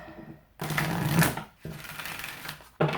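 An oracle card deck is shuffled on a table in two long riffling bursts, each about a second, with a short quiet gap between them and a third burst starting at the end. The shuffling sounds close, and no one talks.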